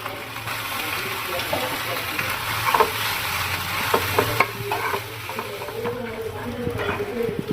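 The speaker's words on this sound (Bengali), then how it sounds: "একটু মশলা দিলাম, একটু টমেটো সস দিলাম, দিয়ে ভেজে দিয়েছি।" Food with spices and tomato sauce fries in a pan, sizzling steadily while a utensil stirs and scrapes through it in irregular clinks, heard close up with no talking.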